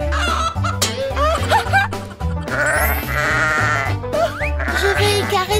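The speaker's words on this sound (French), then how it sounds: "Allons chercher une autre chèvre." A goat bleats on a farm in a children's farm story, with several loud, wavering calls mixed among other bright, busy sounds.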